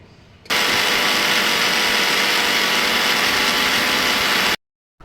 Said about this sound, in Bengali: উপকরণগুলো দিয়ে আমি ভালো করে ব্লেন্ড করে নেব।